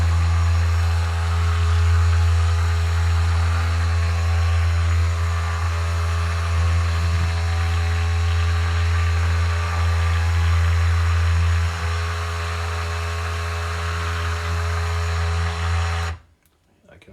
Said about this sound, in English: This popping sound you can hear is the air bubbles.